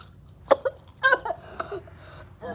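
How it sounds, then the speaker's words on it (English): A few short, sharp coughs sound close by in quick bursts, separated by brief quiet gaps. "Don't cough on me."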